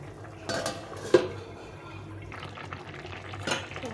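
Metal lid set onto a pot of ridge gourd curry, a few clinks and one sharp knock of metal on metal over a low background hum, no talking.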